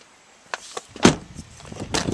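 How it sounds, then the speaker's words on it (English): A Honda car door shuts with a solid, single thump after a few lighter clicks and rustles, close by and fairly loud, with no talking. "Close the door, nice and solid."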